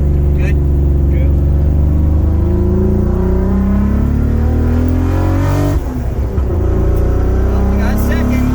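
Nissan GT-R with a freshly swapped transmission pulling hard on the road, its engine note steady and close with rising pitch sweeps as it climbs through the gears, with voices inside the car.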